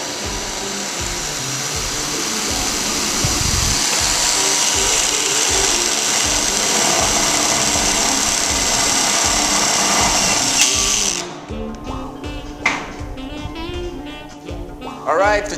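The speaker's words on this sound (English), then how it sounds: "then I can continue to screw the rest of the screws into the steel" Power drill driving screws into steel studs while framing a tiny house, a loud continuous whirring and grinding that runs steadily for about eleven seconds, then stops, leaving quieter clanks and handling noises.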